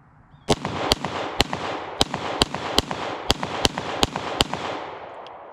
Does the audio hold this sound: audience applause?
no